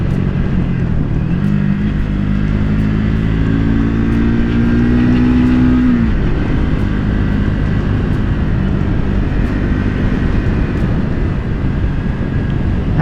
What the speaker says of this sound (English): This engine is just so smooth.